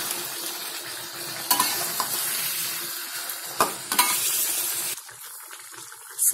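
Chicken with sugar stirred in a hot pan for Indonesian ayam ungkep, a steady broadband sizzle with several sharp scrapes of the spoon against the pan, close and loud throughout, easing slightly at the end.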